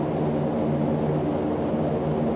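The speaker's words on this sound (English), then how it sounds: "let's see if we can shut down one of our engines here" Steady, loud drone of the Airbus A400M's turboprop engines being throttled in the X-Plane flight simulator, a continuous low rumbling roar with propeller hum holding evenly and close throughout.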